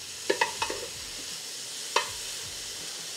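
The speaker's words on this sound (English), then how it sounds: "Let's get this bacon cooking." Bacon in a Ninja Speedi on sear saute mode, a soft steady sizzle under several light clacking taps and scrapes of a utensil in the pot.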